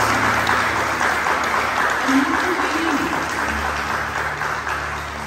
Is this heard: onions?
no